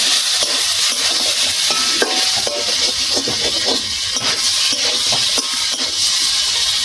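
Eel fish curry base being sautéed in a pan, with the fish cooked down in spices. A steady, loud sizzle runs the whole way through, with scattered scrapes and clicks from stirring.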